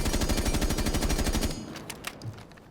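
Sustained rapid automatic gunfire in Rainbow Six Siege, a loud burst of evenly spaced shots lasting about a second and a half, then scattered fainter shots and impacts as it stops.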